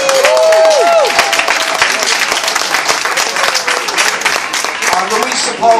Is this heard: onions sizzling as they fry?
no